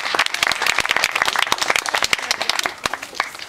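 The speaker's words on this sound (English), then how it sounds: "So everyone give her a round of applause." Audience applause at a stand-up comedy gig, a dense burst of many hands clapping steadily for several seconds, loud and close with no voices over it.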